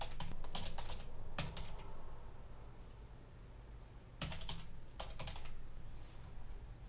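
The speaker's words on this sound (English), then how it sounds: "I'll simply type in the URL." Keys clatter on a computer keyboard as a website address is entered, with bursts of quick close typing broken by short pauses over a steady low hum.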